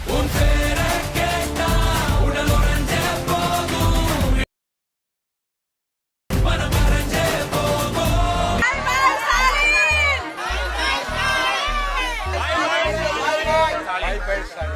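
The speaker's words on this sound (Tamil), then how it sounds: "மக்களோட சத்தம் கேக்குதா?" Large crowd at a Vijay political rally shouting, whooping and cheering loudly, with a sudden gap of silence midway before the roar resumes, thick with overlapping voices.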